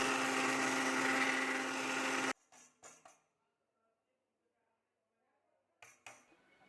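A mixer grinder grinds dried chillies and spices, loud and dense for about two seconds before cutting off abruptly, followed by a few brief clinks and knocks, a long silence and another short clatter.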